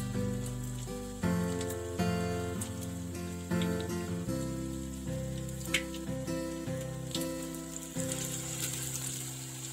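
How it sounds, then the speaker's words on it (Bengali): Battered cabbage pieces fry in oil over a medium flame, giving a continuous soft sizzle and crackle with occasional sharper pops and clinks of utensils. "এভাবেই সবকটি পিস ভেজে নেব মিডিয়াম ফ্লেমে দু পিট গোল্ডেন ব্রাউন করে ভেজে নেবো"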